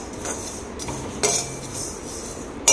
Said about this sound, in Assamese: কম জুইত অলপ অলপকৈ ভাজি আছোঁ মই